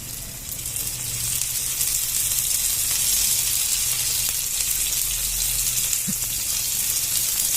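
Adai dosa with oil poured into holes in the batter sizzles on a pan, a loud, steady frying hiss close by and alone.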